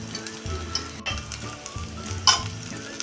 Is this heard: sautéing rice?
yes